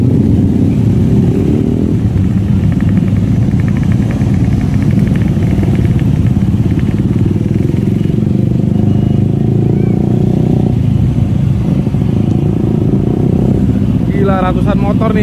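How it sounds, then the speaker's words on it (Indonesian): Hundreds of motorcycles crowd the Merak ferry port at peak homecoming traffic, their engines rumbling and revving loudly together in a dense, continuous roar with clatter, while someone talks over the din. "Ratusan motor nih, ada kali 500 motor ya"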